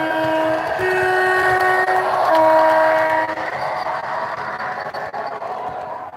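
A model railway locomotive runs along its track, sending out a steady whirring rumble with sustained tonal whine and faint rail clicks throughout, close and fairly loud, fading slightly toward the end.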